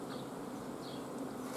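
Honey bees buzz steadily and densely at an open hive during a colony inspection, a continuous close drone with no talk.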